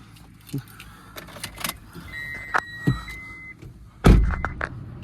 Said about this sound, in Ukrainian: Зараз ми автомобільчик заведемо.